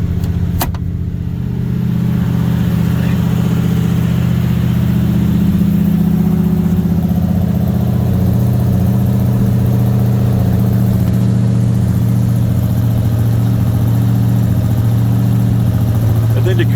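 A 1976 Oldsmobile Cutlass Salon with a 455 V8 idles after a cold start, a steady deep rumble heard close up and loud throughout, with a brief sharp click near the start.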